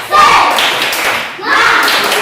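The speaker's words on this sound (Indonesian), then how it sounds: "Tepuk semangat." A class claps out a rhythmic spirit cheer during a school lesson, with two loud bursts of clapping about a second apart and voices calling along.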